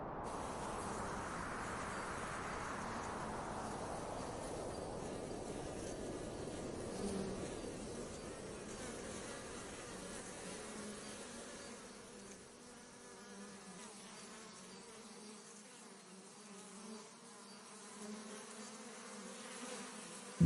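A swarm of honeybees on the move hums as a dense, continuous drone, loudest at the start and then settling into a softer, steady buzz with no voices.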